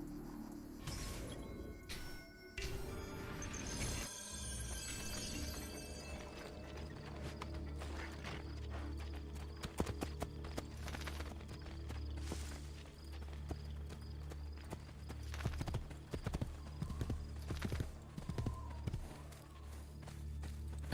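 Horse hooves clip-clop in a quick steady rhythm at moderate distance in the video game Assassin's Creed II, with scattered clanks and movement noises mixed in.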